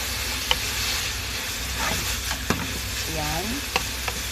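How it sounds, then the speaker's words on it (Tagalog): Burdock (gobo) sliced with carrots sizzles loudly in a frying pan while being stirred, with a steady close hiss broken by sharp clicks of the utensil on the pan; a voice briefly speaks over it. "Halu-haluin lang natin."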